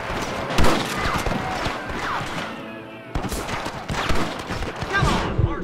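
Gunshots and rapid bursts of fire in a Red Dead Redemption shootout, loud and close, with shouted voices mixed in and a brief lull midway before firing resumes.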